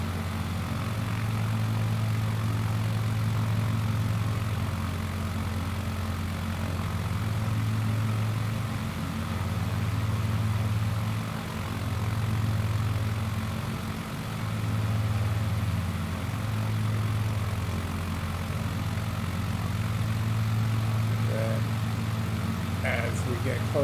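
A simulated light aircraft engine drones steadily and loudly in Microsoft Flight Simulator 2020 on approach to Manzanar Airport, its low pulsing hum holding throughout with slight swells in level.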